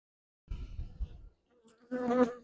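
Honeybees buzz close by on a heavy, crowded hive frame during hive inspection, in short droning bursts, a low hum followed by a higher, louder whine of wings.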